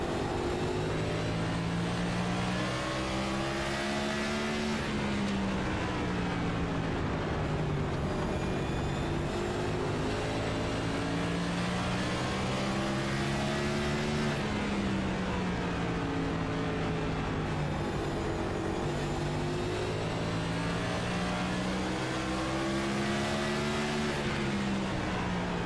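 Onboard engine roar of a race car in a sim racing game at North Wilkesboro, loud and continuous, its pitch rising and falling in repeated cycles as the car accelerates down straights and lifts into corners.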